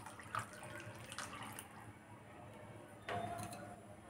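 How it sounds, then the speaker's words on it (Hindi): Water is poured into a cooking pot in a home kitchen, a continuous splashing trickle under faint clinks of utensils and a brief louder surge near the end. "हमें एक बड़ा ग्लास और पानी लगा देना है"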